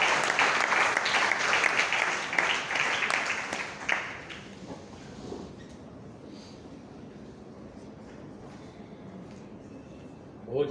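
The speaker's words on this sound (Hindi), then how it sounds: "तालियों से स्वागत करिए सर" A lecture audience at a talk on the freedom movement and journalism breaks into applause to welcome a speaker to the stage, loud clapping that fades after a few seconds into quiet room murmur.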